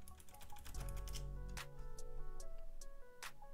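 Fingers typing a question into a chatbot on a computer keyboard: rapid, close key clicks in an uneven rhythm, fairly quiet, with no talk.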